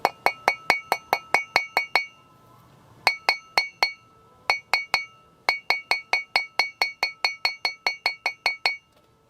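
A tool taps a rear brake seal into place on a 1984 Caprice, a run of sharp, bright metallic clinks in quick rhythmic bursts with short pauses between groups.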